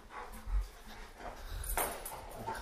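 A dog whimpers indoors in faint, brief whines and snuffles against a quiet room, with no one speaking.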